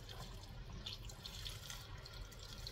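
Water poured into a pot of stacked peeled vegetables, a steady close splashing and trickling that runs unbroken for a few seconds with no talk over it.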